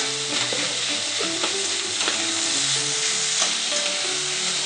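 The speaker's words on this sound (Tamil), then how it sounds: "கைவிடாமல் வதக்கணும். கொஞ்சம் உப்பு போட்டுக்கோங்க," Brinjal being sautéed with salt in a pan over medium flame, giving a steady close sizzle with repeated scraping strokes of stirring throughout, no voices.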